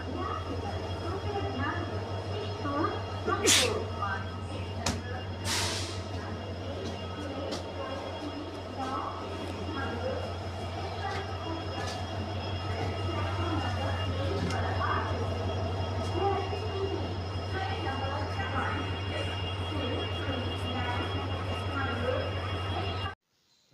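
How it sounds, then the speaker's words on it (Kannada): Constant low hum of a stationary train at a station, with scattered clanks, distant voices, and ambient platform noise. "ಆಗಲೇ ಬಂದು ರೈಲ್ ನಿಂತ್ಬಿಟ್ಟಿದೆ ಇದೇ ನಾನು ಹೋಗೋ ಟ್ರೈನು"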